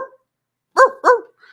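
A voice imitates a dog, giving two sharp loud barks in quick succession after a brief vocal sound, close and clear against silence.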